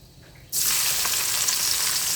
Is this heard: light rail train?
no